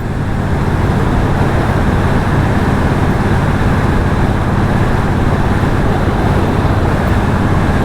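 Steady, loud engine drone with constant road rush, a Triumph Bonneville Bobber motorcycle running at speed without pause or change in pitch.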